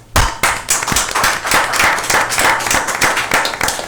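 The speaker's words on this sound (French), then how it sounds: "Je pense qu'on va leur donner une main d'applaudissement à nos employés." Applause for municipal employees at a town council meeting, a dense burst of many hands clapping steadily in a room, loud and close throughout, starting abruptly and continuing without talk.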